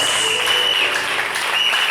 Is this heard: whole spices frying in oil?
no